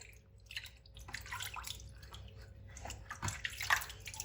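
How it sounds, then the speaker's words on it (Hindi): An ingredient for homemade hair oil is rinsed under running tap water, giving quiet, uneven splashing and dripping with a few brief louder splashes. "आपने इस तरह अच्छी तरह धोना है इसको।"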